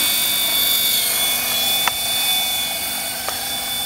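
Small tricopter drone with its motors and propellers spinning, a steady high-pitched whine and buzz holding at an even level throughout, with a couple of brief clicks and no talking over it.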